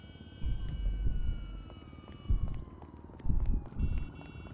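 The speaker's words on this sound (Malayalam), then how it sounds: "സൈറൻ കേൾക്കുന്നുണ്ട് സൈറൻ" A police siren in GTA 5 wails at a distance, a faint wavering tone that slowly falls in pitch under heavier rumbling footsteps or thuds.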